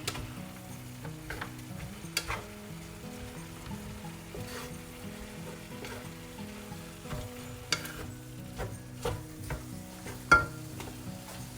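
Yakisoba noodles being stirred and tossed in a frying pan, a steady sizzle under repeated scraping and clattering strokes of the utensil, close and moderately loud, with a few sharper knocks against the pan.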